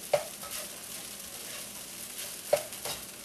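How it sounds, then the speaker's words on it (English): Rice being stir-fried in a skillet, a steady close sizzle with two sharp utensil scrapes or knocks against the pan at the start and again near the end, and no talking. "We just want to make sure that we do a good stir fry on it and get it mixed in with everything."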